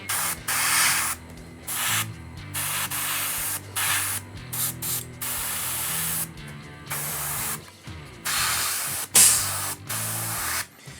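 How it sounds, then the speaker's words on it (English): Repeated short bursts of water spray from a trigger bottle used while painting Drukhari Raider miniatures, hissing puffs separated by brief pauses, close by with a low background hum. "pull the trigger back and give it a little spray of water"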